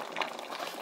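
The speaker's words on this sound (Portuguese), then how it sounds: "A gente tá fervendo." Pot of water boiling on a home stove, a brief soft bubbling and simmering burble, quiet and close with no voices.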